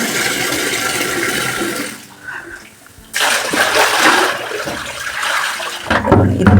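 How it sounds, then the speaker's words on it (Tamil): Water rushes and splashes steadily from a tap into a container, dipping briefly before surging back louder, a continuous running flow close by. "இப்போ நம்ம சுத்தண்ணி பிடிக்க போகிறேன்"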